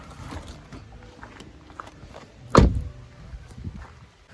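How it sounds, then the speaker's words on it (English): A single car door shuts firmly on a 2017 Honda Jazz as someone gets out, a sharp thud near the middle amid faint shuffling and quiet surroundings. "So now I'm going to exit the vehicle."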